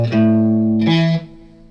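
Electric guitar plays the riff once, clean tone on a humbucker with tapped notes, sustained low notes then a second phrase, close and loud with no talking.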